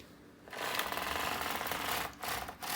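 A double bed knitting machine carriage sliding across rows of stockinette, a steady mechanical whirring rattle in two close passes separated by a brief pause, with no talking.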